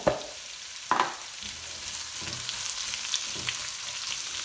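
Two medium finely chopped onions fry in a pan for a tandoori chicken curry, giving a steady close sizzle with a couple of soft knocks of stirring near the start.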